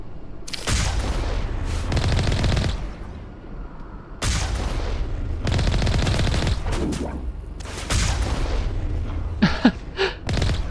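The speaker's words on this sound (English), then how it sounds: "They started shooting at me." Enemy gunfire in the sci-fi shooter Mass Effect: several loud bursts of rapid shots and blasts come in clustered volleys with short gaps between them, sharp cracks near the end, and no talking.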